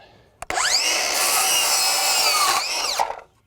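A Craftsman V20 brushless 7-1/4-inch circular saw running on a small 2Ah battery spins up with a sharp whine, cuts steadily for about two seconds at high pitch, then winds down; loud and close, with no talk.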